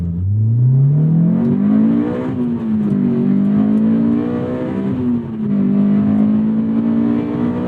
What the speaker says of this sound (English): as you get close to redline, and as you hit VTEC too